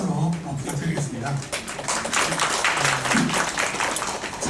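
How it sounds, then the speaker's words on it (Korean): Audience at a university teaching-methods lecture applauding the lecturer, a burst of clapping across the room with a voice speaking over it at times. "다시 한번 큰 박수로 부탁드리겠습니다."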